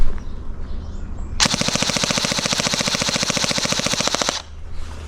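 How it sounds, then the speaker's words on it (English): Novritsch SSE18 airsoft electric pistol firing on full auto, a rapid, even burst of closely spaced mechanical shots lasting about three seconds, loud and close, with no talking. "Shoot full auto again."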